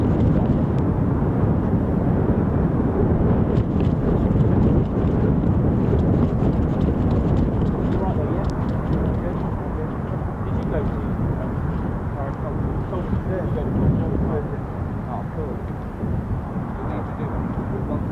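A USAF F-35 fighter jet departing RAF Lakenheath with the 48th Fighter Wing gives a sustained, loud, broadband engine roar with wind buffeting, while people talk over it.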